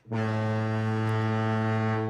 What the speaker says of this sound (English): So let me get the foghorn ready.